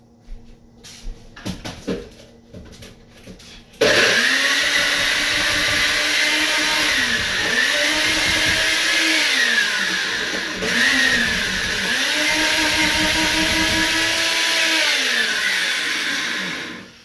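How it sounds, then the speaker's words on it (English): A NutriBullet countertop blender blending fresh ginger starts abruptly and whirs loudly, its motor pitch dipping and rising in repeated cycles as the contents churn, after a few seconds of handling clatter. "I'm using a NutriBullet"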